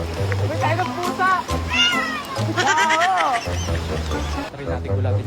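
A cat meows repeatedly in rising, wavering cries, close by and mixed with people talking and a low engine-like hum.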